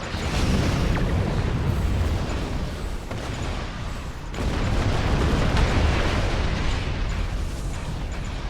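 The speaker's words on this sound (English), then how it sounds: "they're shooting us with the same beam we've been shooting them with" Beam weapon fire striking a starship in a space combat game, a sustained roaring, crackling blast with heavy rumble, swelling again midway, loud and continuous with no voices.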